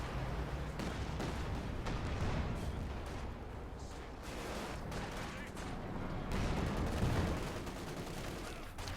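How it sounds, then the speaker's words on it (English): Two anti-tank guns fire in a real-time strategy war game battle. The shots come as repeated heavy blasts within a dense, constant wash of combat noise. "2 AT guns pummeling that."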